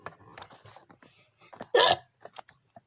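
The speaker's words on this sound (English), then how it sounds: "I got a lot of hiccups." One sharp, loud hiccup bursts out close to the mic from a child at home, set among soft breaths and quiet rustles.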